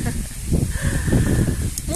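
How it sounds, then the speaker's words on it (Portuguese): Wind gusting through a vegetable garden fertilized with pig manure, a steady rushing hiss with rustling plant leaves, close and fairly loud throughout without clear speech. "E olha o vento."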